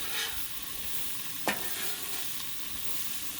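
Chicken wings cook on a Blackstone griddle, producing a soft, continuous sizzle with one brief sharp crackle partway through.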